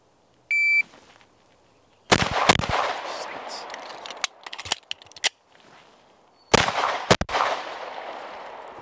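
A CZ P-01 Omega pistol is fired at a shooting range. A timer beep comes first, then two clusters of loud, close, sharp shots several seconds apart, each followed by echoing decay.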